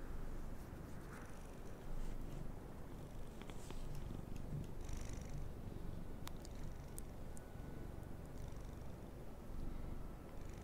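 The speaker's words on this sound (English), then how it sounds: "my cat's on my lap. And he likes yawning into my microphone." A house cat purrs steadily on a lap right beside the microphone, a continuous low rumbling with no talking.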